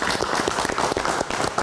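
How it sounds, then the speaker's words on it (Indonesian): An audience at a live talk show applauds for a guest, a dense, loud stretch of close clapping from many hands that carries on without a pause. "Oke, kita berikan tepuk tangan sekali lagi untuk Mas Piu"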